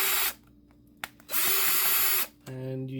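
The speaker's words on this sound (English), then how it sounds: "So these controllers have 5 screws, so we'll unscrew them." A small electric screwdriver whirs in short bursts while backing the screws out of a PS3 controller, its motor pitch shifting between runs, with a brief tap and silence in the gaps.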